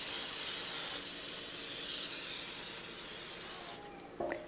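A steady hissing spray coats a metal mold for several seconds, then stops with a short clatter at the end.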